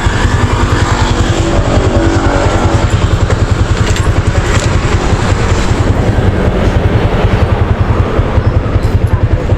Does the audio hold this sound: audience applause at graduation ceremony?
no